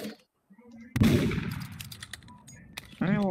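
Rapid gunfire in a Roblox game, a sharp burst of shots starting about a second in and rattling on irregularly, with a voice speaking briefly near the end.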